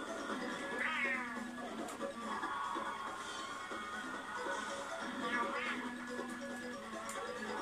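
A cat meows a couple of times, fairly faint, against a busy background of game sounds and bits of voice.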